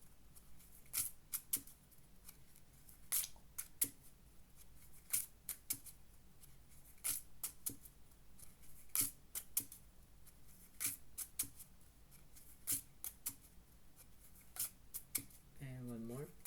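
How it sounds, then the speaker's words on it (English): Quiet, repeated crisp snaps and riffles of cards being shuffled at close range, with soft talk underneath. "After when I'm done shuffling the cards."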